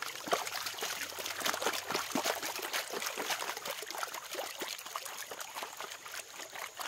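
Water trickling and swishing steadily in a gold prospecting test pan, a continuous close-up dribble and splash with no talking.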